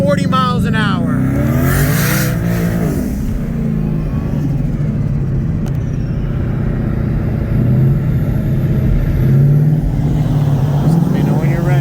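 A 2019 Ford Mustang GT revs and accelerates hard from a 40 mph roll, racing a turbocharged 1995 Toyota Supra, its engine roaring loud and close inside the cabin, with rising gear pulls.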